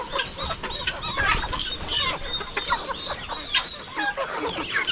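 Chickens kept in a coop cluck and chatter in an overlapping, continuous flock, with sharp short calls popping up throughout at moderate loudness.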